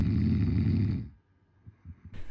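A man snores heavily, loud rasping snores filling the first second, then a faint quieter stretch before another breath begins.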